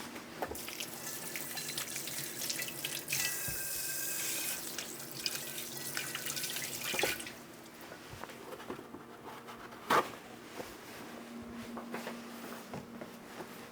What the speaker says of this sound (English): To prepare them, I'm going to give them a rinse at the sink.